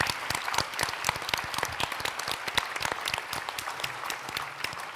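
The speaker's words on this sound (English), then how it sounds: "give them a round of applause" A conference crowd at the Knight Media Forum 2020 claps in steady applause, a busy patter of many hands at moderate distance that holds for several seconds.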